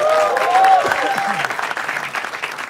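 A live comedy-show audience breaks into loud, sustained applause and cheering from a crowd, with voices mixed in under the clapping.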